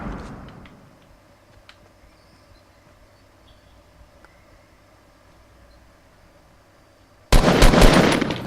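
Gunfire in the battle royale video game Fortnite: a few faint clicks and taps over quiet background, then a sudden loud burst of rapid shots at the very end.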